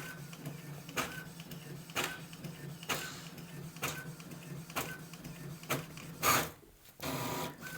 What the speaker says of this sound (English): And this printer prints quite fast, so let's wait a few seconds.